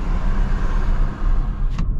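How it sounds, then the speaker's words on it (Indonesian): A loud, steady rumbling roar of a bus engine and exhaust close by on a toll road, heard from inside a Mazda CX-60, continuous throughout with road noise. "berisik banget suara knalpot bus"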